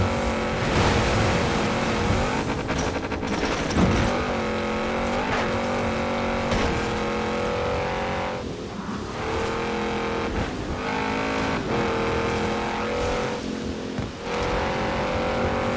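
A high-revving racing engine screams continuously with repeated gear shifts and surges, loud and sustained, a car driven hard in the racing game Forza Horizon 4.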